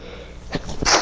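A single sudden sneeze, near and fairly loud, bursts out after a brief low background.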